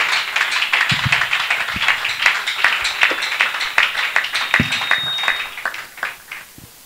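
A church congregation claps for a reverend, steady irregular handclaps ringing out near and loud, thinning and tapering off toward the end.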